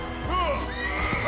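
A horse in the video game Assassin's Creed lets out a clear, close whinny, with hoofbeats clopping around it and a voice talking over part of it.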